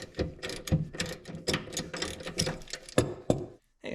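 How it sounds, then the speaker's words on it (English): A hand ratchet clicks in quick bursts while loosening the upper bolt of the rear shock absorber on a 1995 Honda Goldwing trike, close and fairly quiet, with short pauses between strokes. "next step is to remove the upper bolt and washer"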